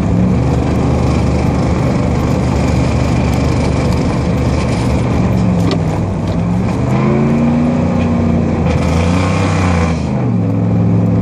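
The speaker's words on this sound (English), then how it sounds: "So I'll get to put it into second gear and listen to the engine." A Dodge Ram pickup truck engine runs steadily and loudly in second gear, its pitch rising and falling as it pulls, with road and wind noise mixed in.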